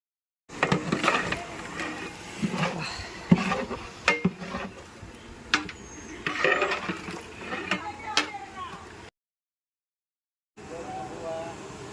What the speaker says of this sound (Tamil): நல்லா போட்டு மட்டனை கிண்ட வேண்டியது